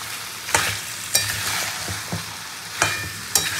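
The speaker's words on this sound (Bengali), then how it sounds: "খুব ভালো করে কষিয়ে নিতে হবে।" Meat and spice paste sizzle in a pan during slow Bengali-style browning, with a steady fry hiss punctuated by about six sharp spatula scrapes at irregular intervals, no voices.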